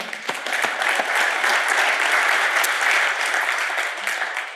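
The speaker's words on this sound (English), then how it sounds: "How about that for a round of applause?" A conference audience at the Protection Review Conference 2024 applauds steadily, a dense wash of many hands clapping at even volume for several seconds before tapering slightly at the end.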